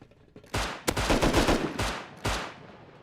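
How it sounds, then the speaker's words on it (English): Double-barrel shotguns fire in Rust on an oil rig, several sharp blasts in quick, uneven bursts at moderate distance, overlapping with a cluttered spray of gunfire and no talk. "The double barrels to clean them up."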